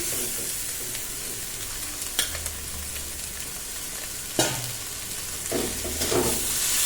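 Pre-cooked pasta and vegetables sizzle steadily in a hot pan, with a few sharp scraping stirs cutting through the constant hiss. No one speaks.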